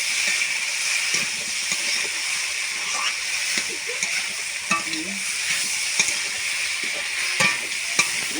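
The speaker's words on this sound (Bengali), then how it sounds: "ফুল চিংড়ি দিয়ে দিলাম, দিয়ে নেড়ে নেবো ভালো করে।" Prawns fry in a hot pan, giving a continuous sizzle while a utensil scrapes and stirs them in irregular strokes, close up and moderately loud.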